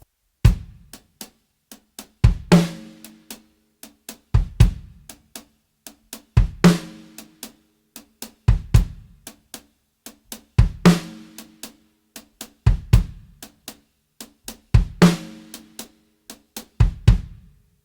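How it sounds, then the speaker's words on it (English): Drum kit playing a basic foundational groove at a slow tempo, with kick and snare hits alternating in a steady repeating pattern under light cymbal ticks, close and clear with no talking. "let me play the main foundational groove slowly so you can"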